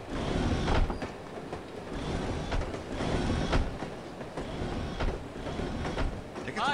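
Steady train ride ambience from the video game No One Lives Forever, a continuous rumbling rolling noise with rhythmic clickety-clack wheel beats throughout, fairly loud and close, with no one talking.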